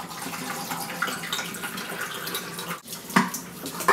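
Running tap water washing freshly developed E-6 film, a constant splashing rush with a few brief clinks and knocks near the end.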